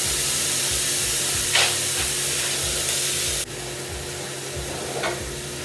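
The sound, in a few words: beef chuck (paleron) browning in a Dutch oven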